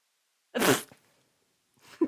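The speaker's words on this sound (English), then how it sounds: "was that a sneeze? Gesundheit." A single close, abrupt sneeze bursts out of near silence, followed by a soft faint vocal sound a moment later.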